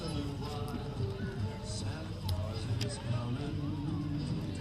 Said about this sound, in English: Here comes the horses.